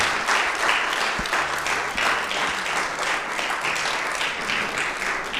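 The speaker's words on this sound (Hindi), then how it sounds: "जोरदार ताली" Loud, dense applause from a church congregation at a Hindi-language sermon, a continuous wash of many hands clapping for several seconds with no pauses.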